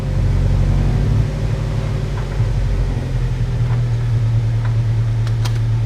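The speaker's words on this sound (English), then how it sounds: "then start the car" A supercharged Mazda Miata engine idles loudly and close, its low steady hum shifting in tone partway through, with a few faint clicks near the end and no talk.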